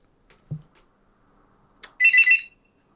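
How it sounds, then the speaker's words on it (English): A loud electronic beeping alarm in the video game Paranoia: Troubleshooters sounds in rapid bursts near the end, following a brief low thump and a short high blip. "hear a loud beeping"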